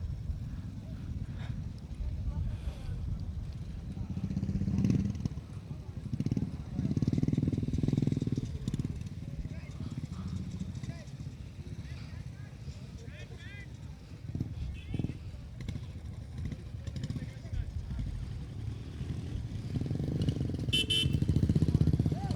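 Motorcycles rumble and rev during a motoball final, a low engine drone rising and falling across the field with occasional louder bursts, under steady crowd noise and commentary.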